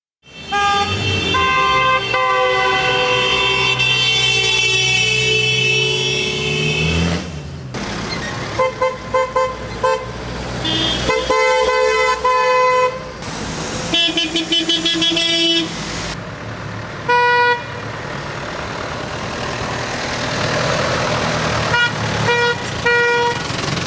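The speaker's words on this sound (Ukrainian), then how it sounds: "Долучились до акції водії, які підтримали активістів звуками клаксонів." Car horns honk almost nonstop, long sustained blasts overlapping with shorter toots, loud and close amid street traffic, drivers joining a street rally in Kolomyia.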